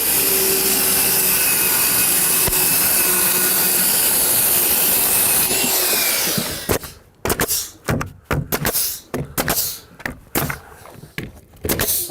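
A power saw cuts through house siding laid over a 2x4 on the ground, a loud steady whine for about six seconds before it stops. Choppy clattering and handling noises follow.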